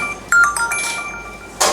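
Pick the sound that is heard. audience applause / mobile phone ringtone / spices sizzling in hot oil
mobile phone ringtone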